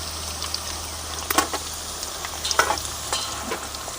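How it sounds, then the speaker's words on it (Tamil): Nendran banana chips frying in hot oil give a steady, soft sizzling hiss, with a few brief clicks and rustles as the slices are stirred. The sound is fairly close, with no voices. "இந்த மாதிரி கணக்காக போட்டு பொரிச்சு எடுத்துக்கணும்"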